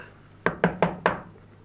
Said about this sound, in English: And he knocked at the house again.